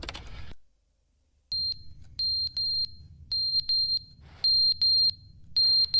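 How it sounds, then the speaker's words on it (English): Low-battery chirp of a smoke detector in The Stanley Parable video game, a series of short, high electronic beeps repeating at uneven intervals over a faint low hum, fairly clear and alone. "Oh, somebody's got to change the batteries in that smoke detector."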